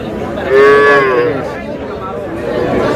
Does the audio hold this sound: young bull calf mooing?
yes